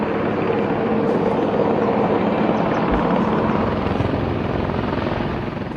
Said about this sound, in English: US military helicopters hovering around the city